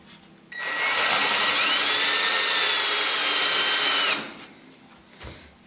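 A power drill whirs loudly for about four seconds, bit cutting steadily into material while drilling mounting holes for a Warn winch, then winds down, followed by faint handling noises.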